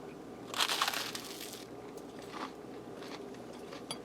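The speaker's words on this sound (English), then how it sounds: "Hear that crunch? Crispy, garlicky." Biting into crispy boxed garlic toast gives a sharp, close crunch that crackles for about a second, followed by a few softer chewing crunches.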